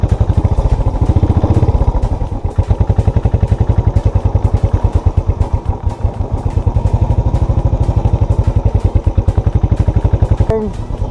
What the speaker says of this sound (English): Guys, this is called black ice. See how the vehicle is slipping.